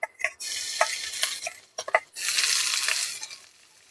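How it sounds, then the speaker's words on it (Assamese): Finely chopped garlic dropped into hot mustard oil in a wok crackles into a loud hissing sizzle, broken by clinks of a spoon against the metal and a brief pause before the frying surges again. "মই এতিয়া ইয়াত প্ৰথমে নহৰু এনেকৈ সৰু সৰুকৈ কাটি লৈছোঁ। মই এতিয়া এইখিনি ইয়াত দি দিম।"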